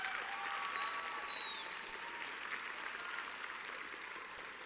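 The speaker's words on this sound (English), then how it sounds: "Please give him a loud round of applause." Sustained applause from an audience at a presidential town hall, steady and fairly even throughout, with a few whistles cutting through near the start and the clapping easing slightly toward the end.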